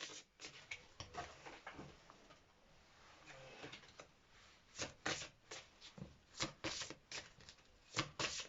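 A modern collage-style oracle card deck being handled and shuffled up close. Soft papery riffles and slides come in quick, irregular bursts, growing denser and more rhythmic in the second half.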